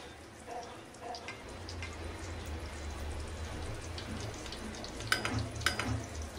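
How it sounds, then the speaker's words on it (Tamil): Egg fingers fry in oil toward golden brown, a faint, even sizzle holding steady throughout with a low hum underneath and a couple of brief clinks near the end. "லைட்டாக கோல்டன் ப்ரௌன் ஆகிற வரைக்கும் நம்ம நல்லா இதை அப்படியே நல்லா ஃப்ரை பண்ணிக்கலாம்"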